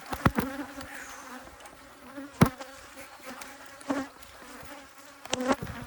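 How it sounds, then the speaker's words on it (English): Honeybees buzzing around a strong hive that has swarmed, faint scattered buzzing with a few louder passes of bees flying close by. "let these bees chill for a bit"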